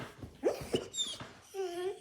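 A female dog whimpers and whines in a few short, close cries, ending in a longer wavering whine, while happily greeting her owner after a reunion at home.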